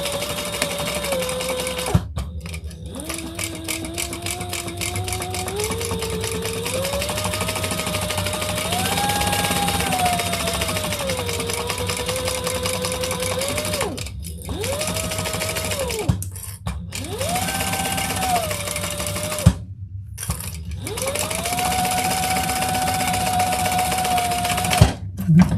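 Sewing machine basting all the way around the layers of a leather bag, a steady whirring stitch running in long stretches with brief pauses, close and fairly loud, with a person talking over it.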